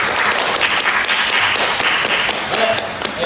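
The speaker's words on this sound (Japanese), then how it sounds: "面白かったよという人、はい、拍手。" Audience applause at a Japanese comedy improv (ōgiri) show, steady dense clapping from a crowd filling the whole stretch as a vote, with a faint voice briefly under it.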